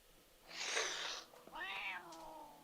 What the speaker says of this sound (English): This cat's fighting.